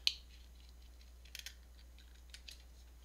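Scissors trimming an old paper photo, a few faint, crisp snips spaced apart in a quiet room.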